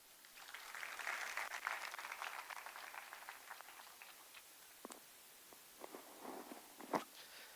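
Applause from a TEDx audience after a talk, a dense patter of clapping that swells early, then thins to scattered claps and a few louder isolated hits near the end.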